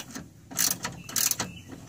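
A ratchet socket wrench with no extension turns the bottom nut of a sway bar link on a Honda Accord, giving a few short bursts of quick metallic clicking, close and fairly loud, with brief pauses between.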